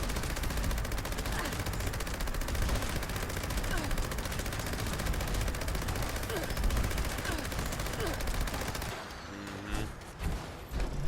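Instigating Crippling Gauss Minigun firing in Fallout 76, a loud continuous rapid-fire stream of shots lasting several seconds, then stopping abruptly with faint game ambience and scattered thuds after.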